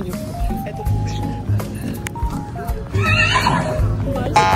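A real horse at a busy tourist spot in Marrakesh, Morocco, gives a loud neigh amid crowd noise, with people talking nearby.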